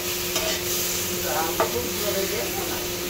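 Mushrooms frying in a pan at home, releasing water as they cook, give a steady close broadband sizzle with a few soft stirring scrapes throughout.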